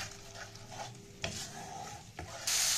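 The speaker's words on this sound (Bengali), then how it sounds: "এবার সব উপকরণ দিয়ে খুব ভালো করে মশলাটাকে আমি কষিয়ে নেব" A spice paste for Tangra fish curry being stir-fried in a pan: quiet steady sizzling with a couple of scraping stirs, the frying hiss swelling louder at the end, no talk.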